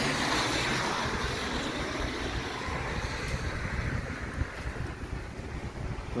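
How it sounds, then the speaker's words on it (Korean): Strong typhoon wind roars continuously against the microphone, a heavy rushing blast that swells and gusts without letup. "바람 소리 말이죠. 바람 소리."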